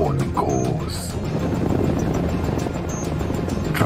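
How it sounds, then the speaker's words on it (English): A Chinese helicopter flies in the video game Command & Conquer Generals, its rotor drone steady and fairly loud alongside brief unit voice lines and game effects. "China's helicopter."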